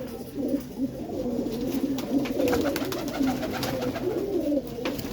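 A white-eyed pigeon coos in repeated low, throaty bursts close by, the rolling calls continuing steadily with faint background noise.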